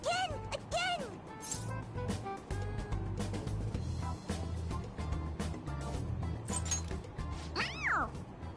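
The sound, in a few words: toy cat meowing when its head is pressed, Persona 5 Royal video game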